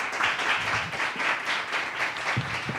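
An indoor audience claps steadily at a conference event, a dense even patter of many hands, moderately close, with no voices over it.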